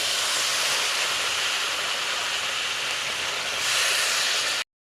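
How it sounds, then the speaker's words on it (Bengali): Water pours steadily into a pan of browned, spiced potato for a Bengali pangas fish curry, a loud continuous splashing hiss that runs close and unbroken for several seconds before cutting off abruptly. "এবার আমি একটু জল দিয়ে দেব"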